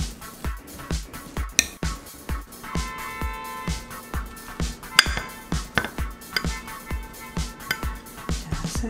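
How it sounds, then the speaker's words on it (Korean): Warm boiled potatoes are mashed in a bowl, a close series of rhythmic soft thumps and clinks from the masher striking the dish, repeated steadily throughout with no speech. "감자를 따뜻할 때 으깨줘야 돼요."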